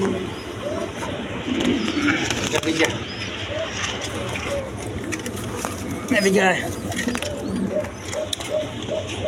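Large Indian Bombay pigeons coo repeatedly in a bird market, their low throaty calls recurring through steady background noise while people talk nearby.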